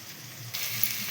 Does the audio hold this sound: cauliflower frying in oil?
yes